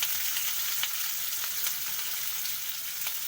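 Halved garlic cloves fry in a pan with a continuous soft sizzling hiss, close and quiet, broken by occasional small pops and stirring clicks, with no voices.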